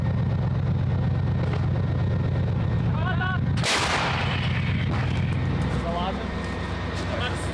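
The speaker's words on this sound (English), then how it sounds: "The Panzerhaubitze assembles both by itself in a deadly ballet before opening fire again." A Panzerhaubitze self-propelled howitzer fires one loud, sharp blast that cuts through a constant low engine rumble, with a voice talking over the scene throughout.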